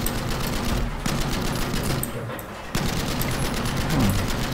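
Battlefield 5 gunfire: rapid automatic bursts crackle almost continuously at close range, with a brief lull in the middle before the shooting picks up again loudly.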